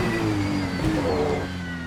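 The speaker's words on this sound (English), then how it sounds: "nice downshift sounds in this car" Ferrari GT3 mod race car in the Assetto Corsa racing game, its engine droning steadily before a sharp downshift blip, then the pitch falls away as it slows, with no talk over it.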